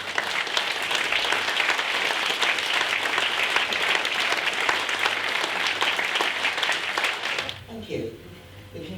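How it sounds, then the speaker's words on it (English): Sustained applause from a seated audience at a community gathering, dense and steady for several seconds before thinning out as a voice begins speaking. "can we just have a round of applause again?"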